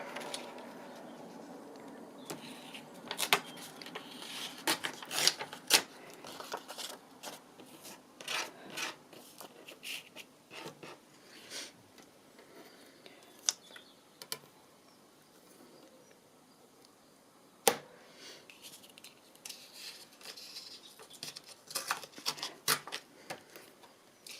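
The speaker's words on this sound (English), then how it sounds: "I'm going to trim the bottom bit first" Scissors or a trimmer cutting along the bottom edge of a craft piece, close up, with repeated short crisp snips and rasping cuts in irregular bursts, no talking.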